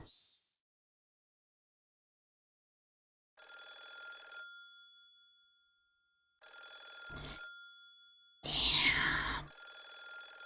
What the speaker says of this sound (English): The phone rang for over 3 minutes.